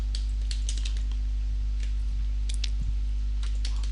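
Typing on a computer keyboard while writing PHP code, with quick, light key clicks in short irregular bursts over a steady low electrical hum, and no talking.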